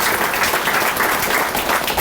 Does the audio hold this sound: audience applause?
yes